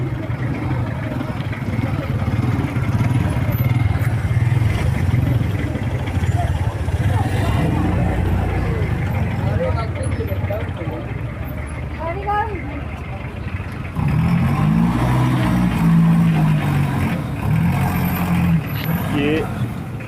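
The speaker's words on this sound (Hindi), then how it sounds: "ये जो ट्रैफिक की रवानी है" Road traffic moves through a busy main bazaar street at a chowk in Khaplu, with car and truck engines rumbling steadily and vehicles passing close by as someone talks over the noise.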